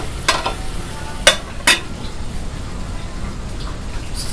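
Brinjal pieces go into a pan of Andhra-style crab curry and fry with a steady low sizzle, with a few sharp stirring scrapes of a spoon against the pan.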